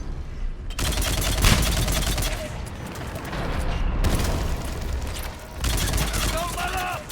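Gunfire in Mass Effect 3 Legendary Edition played on Xbox Series X, sustained bursts of rapid automatic shots and booms, loud and close, with brief voice lines mixed in.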